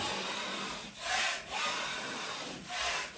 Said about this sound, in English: we're just going to scrape this down and make sure that there's nothing loose